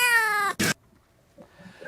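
A house cat gives one loud, drawn-out meow close by, then a short sharp noise, a pause of near silence and some faint, quiet movement.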